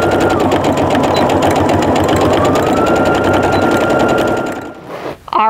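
A sewing machine runs a fast, steady rhythmic stitch close by, reinforcing seams on a tote bag, then slows and stops at the end with a few mechanical clicks.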